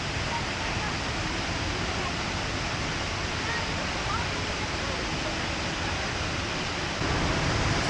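A waterfall in Ubud, Bali, runs heavy with brown, muddy water after a big downpour; a steady, dense roar of rushing water fills the scene continuously, loud and close, with no breaks.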